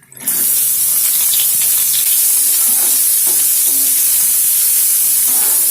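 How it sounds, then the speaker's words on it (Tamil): Chopped onions drop into hot oil in a pan that already holds green chillies and start sizzling loudly at once, a bright steady hiss with faint stirring scrapes, cooked in a village kitchen. "இப்போ நம்ம நறுக்கி வச்ச வெங்காயத்தை சேர்த்துடலாம்."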